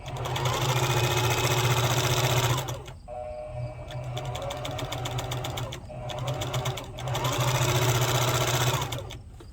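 A Singer 4452 heavy duty sewing machine runs dry without thread, its fast steady needle clatter loud and close, pausing briefly twice before starting up again.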